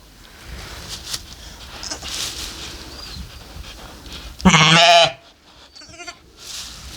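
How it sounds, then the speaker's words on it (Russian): A ram on a forest homestead farm lets out one loud, wavering bleat midway through, with quiet rustling and faint background noise before and after. "Ты, наверное, линять будешь, да, баран?"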